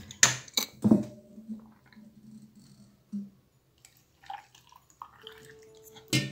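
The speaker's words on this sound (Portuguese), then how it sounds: "Então agora eu vou colocar água," Water is poured into a jar of onion pickles, a close trickling and gurgling pour with a few clinks, fading to quieter drips and a final splash.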